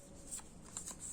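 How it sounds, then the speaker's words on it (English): Deck of game cards being shuffled during a solo board wargame, a quick burst of soft riffling flutters, close and quiet with no speech. "we shuffle"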